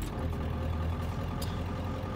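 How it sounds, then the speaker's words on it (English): A Ford Powerstroke diesel truck engine runs with a steady low rumble and clatter, close and even throughout the short stretch, with no talk over it. "We'll start up the truck."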